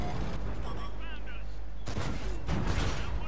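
Tank cannon fire in World of Tanks, with two sharp booming reports about half a second apart over a steady low rumble of engine noise.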